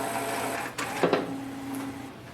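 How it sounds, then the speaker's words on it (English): An HP OfficeJet Pro 8210 printer switching on, with a brief mechanical clatter and whirr of internal parts followed by a steady low motor hum, close and moderately loud, with no voices. "First step is to switch on the printer and open this section."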